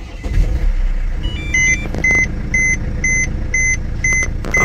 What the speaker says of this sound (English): it's gonna squawk at me because I don't have the damn seatbelt